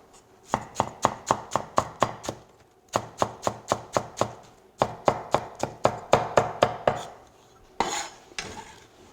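A knife chops green onion on a cutting board in a kitchen, fast and close. The even runs of crisp chops come in several bursts with brief pauses between them.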